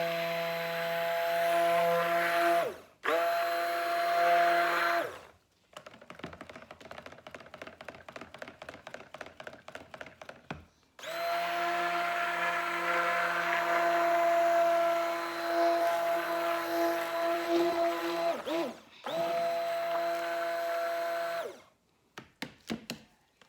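Motorized whirring of a stick blender mixing soap batter comes in long buzzing bursts separated by short pauses, with a rapid ticking rattle between runs and a few quick stops near the end.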